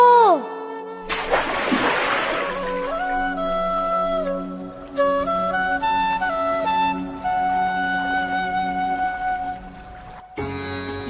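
Splashing water in a cartoon as a boy plunges into the Yamuna river: a loud splash burst followed by sloshing under a continuous musical score with sustained tones.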